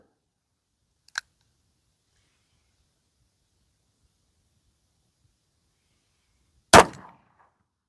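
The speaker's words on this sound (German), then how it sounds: "So, dann werde ich mal mein Glück mit meinem Revolver versuchen." A revolver fired at a target outdoors in Rachel, Nevada: one faint sharp crack, then a single loud close report with a short decaying tail, separated by silence.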